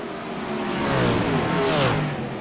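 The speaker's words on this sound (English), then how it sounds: "Sprint cars putting on a show tonight here at Weedsport." Sprint cars race on the dirt track at Weedsport during a B-Main Bandits National Tour event, engines roaring loudly and swelling as cars pass close by, with no talk.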